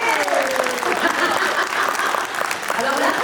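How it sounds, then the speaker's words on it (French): A magic show audience claps enthusiastically throughout, thick continuous applause with scattered cheers and voices mixed in. "On peut les applaudir très fort."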